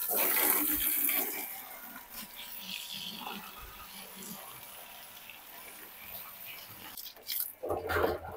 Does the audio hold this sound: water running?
yes